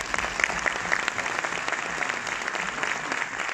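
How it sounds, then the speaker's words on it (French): Applause from a cinema audience at a film premiere in Orléans, a steady patter of many hands with a few sharper claps standing out near the front, holding level throughout. "Donc merci infiniment et je vous applaudis."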